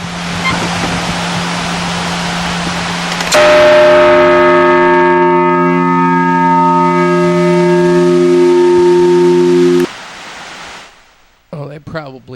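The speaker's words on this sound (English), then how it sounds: "This is a bronze bell, and I did it. It was pretty loud," A bronze bell is struck once, loud and close, and rings out with a bright, sustained metallic tone for several seconds before cutting off. A voice speaks briefly afterward.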